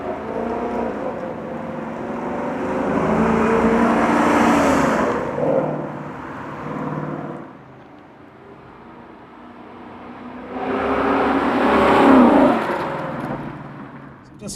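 A 2015-2017 Mustang GT with a Corsa Sport exhaust cruising on quiet streets, its exhaust note swelling in two broad surges with a softer lull between them, heard from inside the car.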